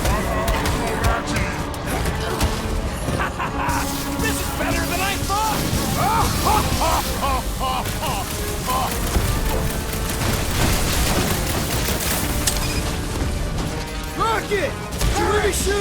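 Steady, dense gunfire in the Marvel's Guardians of the Galaxy game, continuous shots and impacts under excited talk and chatter throughout a busy combat scene.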